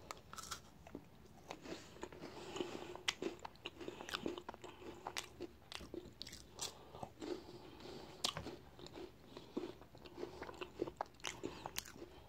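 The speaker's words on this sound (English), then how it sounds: "Chocolate, peanut butter, and wafers. Just eat one already." Close, quiet crunching comes from someone biting and chewing Reese's sticks, chocolate and peanut butter wafer bars, with steady crisp crackles and munching throughout and no talking.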